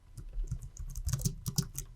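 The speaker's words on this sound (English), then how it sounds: "I can also use the keyboard shortcut" Keys clatter on a computer keyboard during spreadsheet work in Excel, a quick burst of close, crisp taps with no voices.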